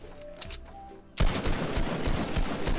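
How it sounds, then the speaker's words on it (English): Quiet room tone, then a sudden burst of rapid Fortnite: Battle Royale gunfire that keeps rattling, loud and dense, like automatic weapons. "Shooting through the wall, you're hacking, Jack."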